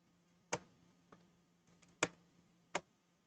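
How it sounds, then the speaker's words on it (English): Four sharp computer keyboard clicks sound while a website address is typed, spaced irregularly, close and fairly crisp against a quiet background with a faint hum. "I'm typing in the website for everybody."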